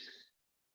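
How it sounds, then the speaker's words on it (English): One short, fairly soft throat clearing by a woman, heard alone before silence. "I'm clearing my throat because I'm going to share a song as well."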